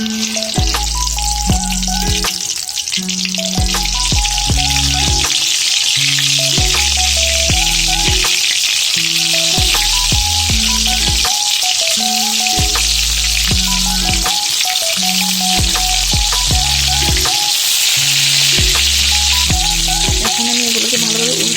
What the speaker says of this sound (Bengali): দিয়ে দিচ্ছি পটল ভাজাগুলো